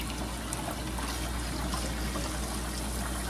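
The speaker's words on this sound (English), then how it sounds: "Washing these potatoes really good, and I rinse them about 4 times." Running water rinses potatoes in a steady, continuous splashing trickle with no pauses, close and moderate in level, heard alone without talking.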